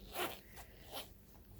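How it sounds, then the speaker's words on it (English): A zipper runs along a full-size wallet in a few quick, close strokes, two main rasping pulls with a softer one between, no voices. "It zips up, no problem."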